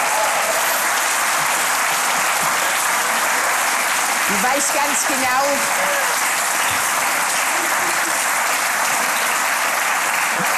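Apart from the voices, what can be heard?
audience applause in a TV studio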